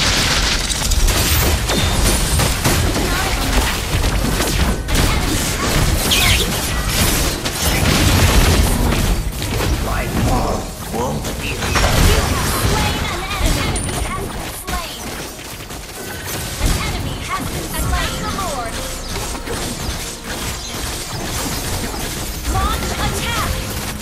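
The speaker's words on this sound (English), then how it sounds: "Your team destroyed a turret!" Battle game turret being destroyed amid a dense stream of booms, crashes and rapid bursts, loud and continuous for over twenty seconds, with game announcer voices over the action.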